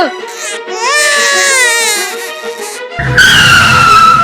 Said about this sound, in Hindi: अरे ये किसके रोने की आवाज है बेटा?